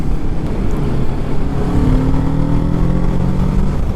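A 2021 Kawasaki Ninja 650 motorcycle accelerating, engine note rising steadily in pitch as revs climb, close and loud against wind and road noise.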